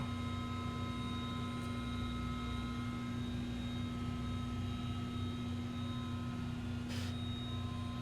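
Bell 429 helicopter engines running in the X-Plane 11 flight simulator over Manhattan, a steady droning turbine whine with constant tonal hum, even and unbroken for the whole stretch with no talking.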